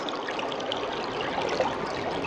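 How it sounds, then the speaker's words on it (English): A giant waterfall roars as a steady, broadband rush of falling water, continuous and even at moderate distance with no voices over it. "Actually, that looks like a giant waterfalls."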